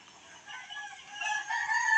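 A rooster crows in one long, drawn-out call, rising in loudness toward the end, heard fairly close with no talking.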